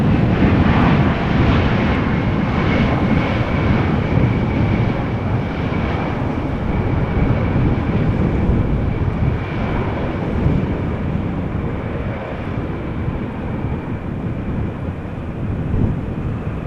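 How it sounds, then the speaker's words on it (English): A KLM Embraer 175 jet arriving from Luxembourg at Amsterdam Schiphol during a storm with westerly wind, heard as a steady, loud broadband engine roar that holds for the whole stretch without a break. "this is KLM flight 1740. You guys recognize the Embraer 175 by now"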